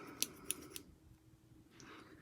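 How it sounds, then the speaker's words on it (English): Three quick, crisp snips of scissors trimming excess nail striping tape in a quiet room, followed by a soft rustle and a final click. "So we're going to just take our scissors and trim off the excess"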